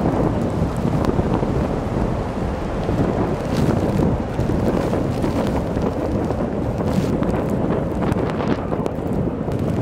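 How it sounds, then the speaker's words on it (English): Blizzard wind roars continuously around a van camped out in a dark winter storm, a loud, unbroken rush of gusting air and blowing snow with microphone buffeting and no voices. "It's dark, the snow's blowing hard."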